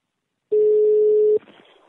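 A steady telephone tone sounds loud and alone for close to a second, then cuts off into a faint line hiss as a prank call to a woman named Rita is placed.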